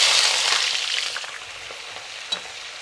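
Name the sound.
onion and peas frying in oil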